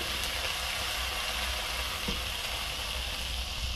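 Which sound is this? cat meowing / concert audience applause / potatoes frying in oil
potatoes frying in oil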